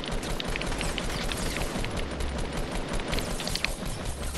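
Sustained gunfire in a first-person shooter, snipers firing from a mountain, dense continuous shots with sharp cracks over a constant loud battle din.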